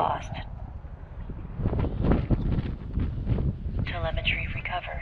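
Gusty wind buffets the microphone outdoors, a steady low rumble that swells and fades, with a voice speaking briefly near the start and end.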